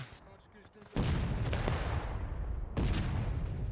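Black-powder musket volleys from a 300-player War of Rights battle on the Nicodemus Hill map: a sudden loud crackling fusillade erupts and rolls on, then a second dense burst follows, with distant firing rumbling underneath.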